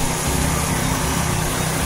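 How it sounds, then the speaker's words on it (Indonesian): A Tesla 160A welding generator's engine runs rough and vibrates, with a loud, steady, noisy exhaust drone that fills the whole short stretch with no voices. "tapi suara knalpotnya ini ya sedikit bising gitu, nggak seperti mesin pelet saya gitu kan"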